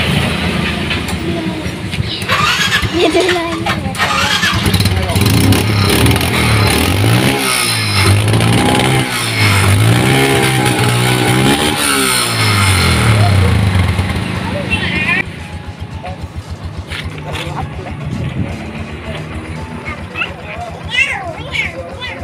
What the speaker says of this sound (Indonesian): Jadi sekarang kita tinggal hidupkan mesin motor ini